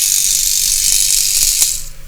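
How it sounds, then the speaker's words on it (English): An electric toothbrush scrubs a circuit board wet with sprayed contact cleaner, giving a loud, steady high buzzing hiss with faint clicking, close up and alone, fading at the very end. "Spray it on and grab your electric toothbrush."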